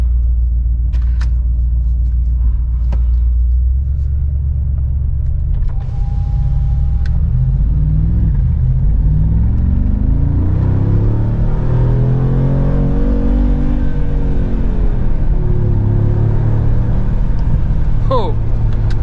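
A Mercedes-AMG G63 V8 in Sport Plus mode gives a deep rumbling idle that swells into a rising rev and then falls back, heard from inside the cabin with a voice speaking.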